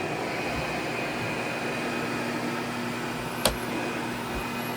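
A Sebo Felix vacuum cleaner runs with a steady, even whir at moderate level, broken once by a brief sharp click partway through, with no voices.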